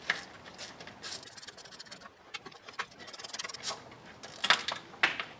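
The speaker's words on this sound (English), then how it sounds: "we got to undo those two 10mm bolts right there" A wrench working 10mm bolts off the valve cover bracket of a 1987 Toyota Camry engine, faint intermittent ratcheting clicks and scraping metal rubs at close range, with no talk.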